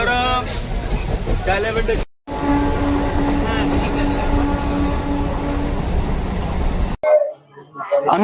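Hooghly–Katwa local train at platform three of Nabadwip station, a steady loud rumble and hum of the train with platform noise throughout, a brief dropout near two seconds, then quieter station ambience at the end; voices are heard over it.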